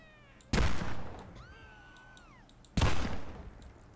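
Two loud, sharp gunshots, about two seconds apart, from the Red Dead Redemption revolver fired in Postal 4, each with a short ringing tail. A brief wavering, whining tone sounds between them.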